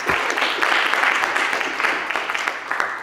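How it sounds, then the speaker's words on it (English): Graduation-ceremony audience applauding steadily, a dense sustained wash of many hands clapping at full volume throughout, with no break. "a big round of applause to Hannah and Brookie"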